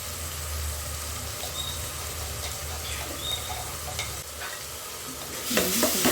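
Ginger garlic paste fries in a pan for a rice kushka, a steady close sizzle with scraping stirs and light clinks, rising to a louder burst of frying near the end.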